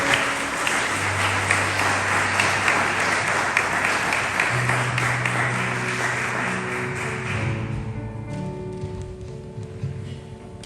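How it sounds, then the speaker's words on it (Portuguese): A church congregation applauds during a Sunday service. Broad clapping runs for roughly seven seconds and then thins out, while a sustained low instrumental tone plays underneath and carries on after the clapping fades. "Você pode aplaudir a Deus por isso?"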